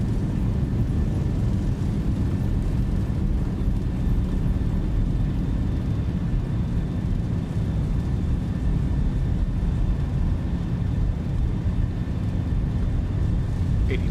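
Steady roar of Boeing 737 thrust reversers during a landing in the Zibo 737 simulator, a continuous broadband rumble with faint tonal whine, holding at an even loudness throughout with no talk.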